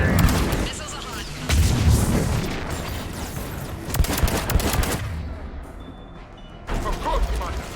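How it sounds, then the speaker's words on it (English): Rapid missile launches and weapon fire rattle through a Mass Effect 3 firefight, a dense loud barrage of bursts and booms with brief lulls, mixed with in-game voices. "Missiles away."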